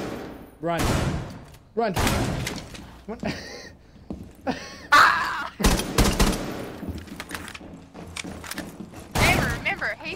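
Video game gunfire in Rainbow Six Siege: a few sharp shots and short bursts ring out over players shouting and talking, with thuds and impacts scattered among the voices.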